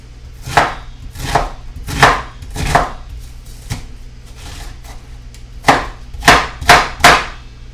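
A knife chops ingredients on a cutting board for a rock fish pasta, sounding as crisp, sharp thuds in quick bursts of four with brief pauses between, close and clear without talk.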